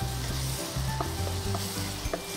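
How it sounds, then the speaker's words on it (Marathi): Whole spices dry-roasting in a kadai without oil or ghee, a steady close sizzle with repeated stirring and scraping strokes, no talking. "त्या सगळ्या कढईमध्ये तेल तूप न घालता जस्ट फ्राय करायच्या"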